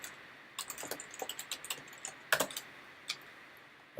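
Computer keyboard typing up close, a quick run of light clicking keystrokes with short pauses and one louder burst midway, quiet and without talk.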